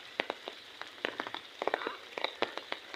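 Rain keeps falling during a prolonged downpour that has caused flooding, heard as faint scattered drops tapping on a surface against a soft, steady hiss.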